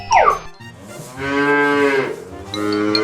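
A cow moos loudly and close by in a long drawn-out call, preceded by a short bright sound effect and followed by light chime-like tones.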